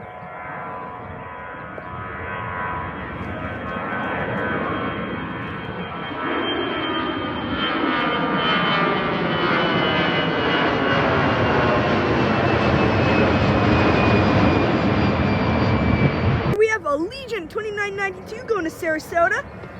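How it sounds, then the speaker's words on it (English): Allegiant jet airliner at Boston Logan airport, a steady loud engine roar that swells gradually with a rising whine, followed at the end by a voice speaking. "here we have some sort of Allegiant plane"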